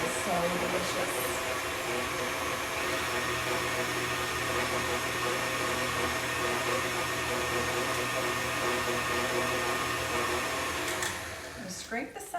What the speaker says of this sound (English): you just blend this and mix it up really well until it becomes really creamy